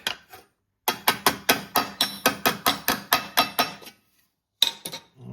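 A 3D printed rust repair patch panel is hammered on an anvil: a fast, steady run of about a dozen sharp, close metallic blows, a pause, then two more strikes.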